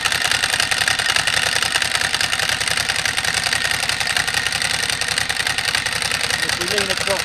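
Ducati motorcycle with carbon exhausts idling up close, its open dry clutch adding a loud, steady rattling clatter over the lumpy engine beat, with speech-like sounds mixed in.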